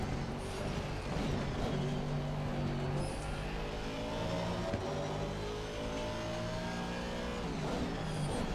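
Race car accelerating out of the pit lane in the Assetto Corsa Competizione racing game, a steady revving engine note that climbs through gear changes, continuous and moderately loud with no talk.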